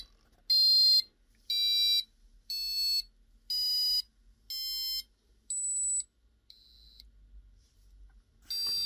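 A passive buzzer on an Arduino board sounds a run of evenly spaced, shrill electronic beeps, about seven in a row, then pauses before another beep starts at the end.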